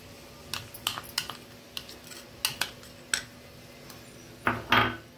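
A metal spoon scrapes and clinks against a cooking pan while mixing masala paste for a cauliflower and pea curry, a dozen or so irregular sharp taps close by, ending in a longer scrape.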